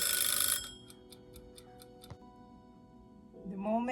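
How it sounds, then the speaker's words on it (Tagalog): A kitchen timer ticks in an even, regular rhythm after a short burst of louder sound, ending as a voice begins speaking. "Yung timer ko po."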